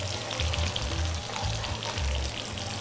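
Eggplants and flavor peppers fry in oil in a pot, a steady, close, dense sizzle with low bubbling that continues without pause and with no talk.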